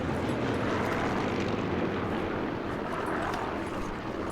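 A steady, loud aircraft engine drone in the video game Sniper Elite 4 fills the whole stretch, a broad rumbling roar with no pauses and no voices.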